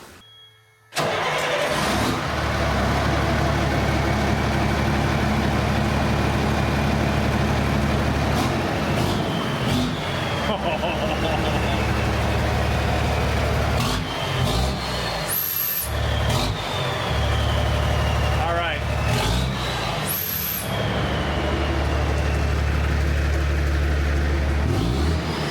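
A Cummins diesel engine in a dump truck idling through a straight pipe exhaust with the muffler removed, loud and rough with a deep steady rumble, beginning abruptly after a second of quiet, with occasional clanks and squeals over it.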